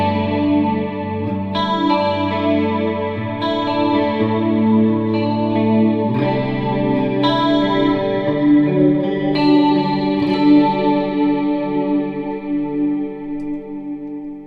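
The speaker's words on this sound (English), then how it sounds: "So this is like a clean patch with some, kind of like 80s kind of reverb and delay and chorus and stuff." A clean electric guitar patch drenched in 80s-style reverb, delay and chorus, played through a Fractal Axe II FXL setup as sustained, shimmering chords that ring and overlap in a wide, lush wash, loud and alone.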